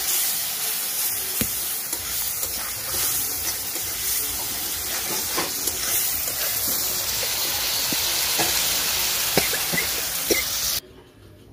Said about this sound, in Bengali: এবার মশলাটা কষাচ্ছি।